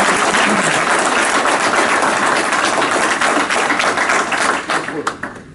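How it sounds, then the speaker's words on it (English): Loud, dense applause from an audience after a presentation, steady and sustained for several seconds before tapering off into a few last claps near the end. "Let's give them a huge round of applause"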